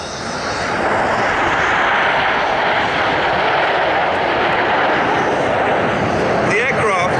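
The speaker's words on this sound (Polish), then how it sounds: "The aircraft are flying at 650 km an hour and the pilots are now flying a 4G turn." Red Arrows jets in a flying display at the Radom Air Show, making a loud, continuous broadband roar that fills the whole stretch, with a faint voice under the engine noise near the end.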